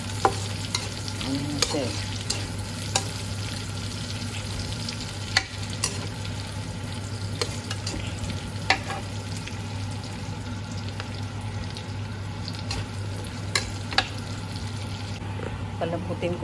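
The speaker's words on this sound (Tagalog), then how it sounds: "Lagay ko na yung sibuyas." Onion sautéing in a hot pan for pansit guisado, a steady sizzle with sharp scraping clicks from stirring at irregular intervals, close and clear, with a brief spoken phrase over it.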